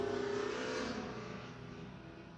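A car with its mufflers cut passes fast and close, a loud raspy exhaust roar that swells and then slowly fades away, no talking over it.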